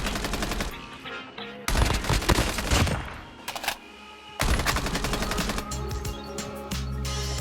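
Rapid automatic gunfire from Call of Duty Mobile, loud and close, comes in three long bursts with short pauses between them, each a dense rattle of shots.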